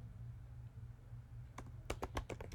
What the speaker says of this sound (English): Then I'm gonna type print